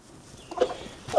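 Chickens clucking as they tear apart dead roaches, a few short, close clucks that grow louder toward the end over faint background noise.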